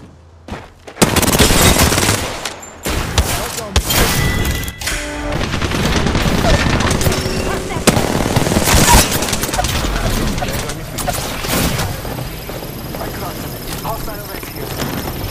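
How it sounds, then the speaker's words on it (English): Dense, sustained exchange of enemy gunfire in the battle royale shooter Apex Legends, with rapid overlapping shots and loud bursts running continuously after a short quiet opening, mixed with game effects and talk throughout. "The enemies are shooting at me"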